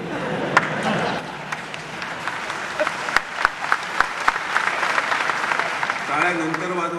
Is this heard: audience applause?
yes